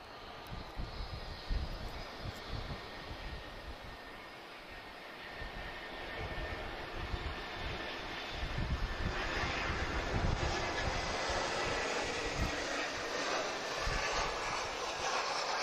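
An airliner's engines roar in a sustained broadband test run at Lisbon Airport, heard from a distance and growing slightly louder toward the end, with no talk.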